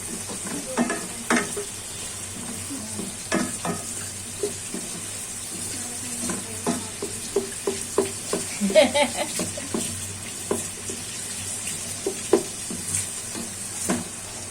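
Onions frying and being stirred in a pan for vegetable khichuri, a soft continuous sizzle broken by frequent scraping and clicking strokes of a spoon, close and moderately quiet.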